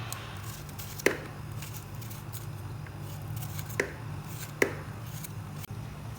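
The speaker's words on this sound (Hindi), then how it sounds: "इस तरह छोटे इसको कट कर लेंगे ताकि इजीली ये बॉईल हो जाएं।" Round gourds (tinda) being chopped into small pieces on a board, with a few sharp, sparse knife strikes over a steady low background hum.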